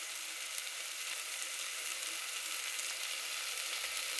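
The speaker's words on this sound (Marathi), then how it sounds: "तुम्ही बघू शकता कसा मसाला भाजतोय" Masala spices roast and sizzle in a hot pan for mutton curry, a steady, even hiss of frying throughout with no voices.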